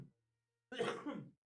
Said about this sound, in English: my cough is really taking a toll on my body